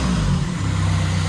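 A repaired car engine, rebuilt after blowing, idles in a steady low rumble that holds even and continuous at close range with no voices over it.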